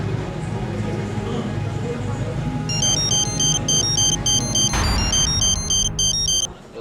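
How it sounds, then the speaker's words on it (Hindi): A cell phone ringtone chimes in a repeating electronic pattern for several seconds over a low background hum, then cuts off. "बार बार बजने वाले सेल फोन को"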